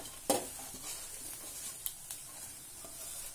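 Coriander and mint leaves are sautéed in a pan, a soft, steady sizzle with occasional stirring scrapes and taps, close and fairly quiet.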